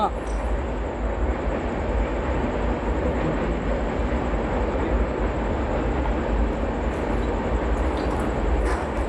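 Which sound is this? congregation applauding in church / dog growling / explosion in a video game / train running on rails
train running on rails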